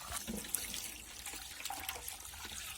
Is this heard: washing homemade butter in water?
yes